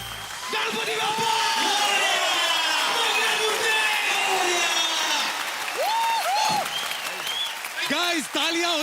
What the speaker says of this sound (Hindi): गाइस तालियां हो जाए भाई।